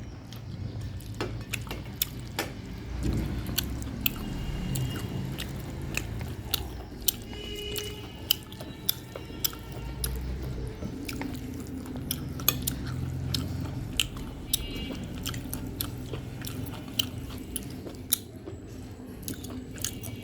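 Potato mash made with oily meat being eaten: steady close-up chewing and biting with soft squishy mouth sounds and occasional clinks of cutlery on a plate, continuous throughout with no talking.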